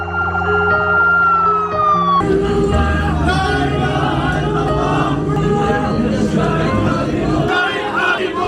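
A wailing ambulance siren sweeps up and down loudly and continuously as it arrives at a hospital in Nablus, with crowd noise and voices beneath it and a second siren tone joining partway through.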